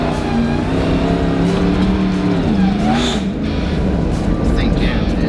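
An 1100 HP Hellephant-engined Jeep JK roars as it accelerates, a loud, close engine note climbing in pitch through the run, with people's voices and excited talk over it.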